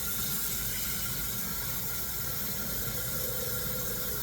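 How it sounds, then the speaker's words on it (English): Water runs from a tap to fill a coffee maker for four cups of coffee. A steady, close rushing hiss continues evenly throughout with no talk. "I'm gonna fill this up with water too."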